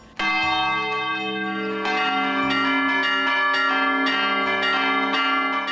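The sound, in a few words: church bells ringing in São João del Rei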